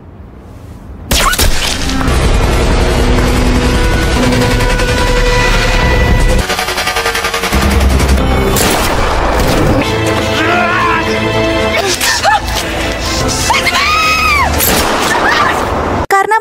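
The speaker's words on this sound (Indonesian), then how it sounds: "mendengar suara tembakan" Loud burst of gunfire in a film scene, rapid shots and crashing impacts over dramatic music, with heavy booming hits through the middle.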